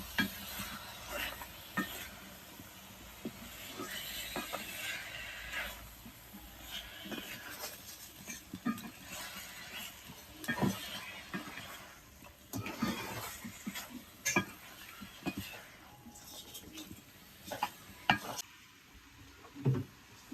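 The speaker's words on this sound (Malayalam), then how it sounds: "നമുക്കിത് നന്നായിട്ടൊന്ന് മിക്സ് ചെയ്ത് കൊടുക്കാം" Chicken with spice masala being stirred and fried in a pan for chicken kadai, steady sizzling broken by repeated scraping and clattering stirs, close and fairly loud with no talking.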